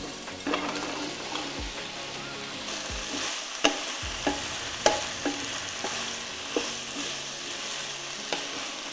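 Diced potato, celery and carrots sauté in a pot, giving a steady close sizzle. A spoon stirs them now and then with sharp clinks and scrapes.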